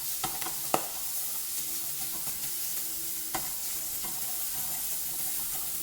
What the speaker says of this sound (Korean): 고기부터 볶아줍니다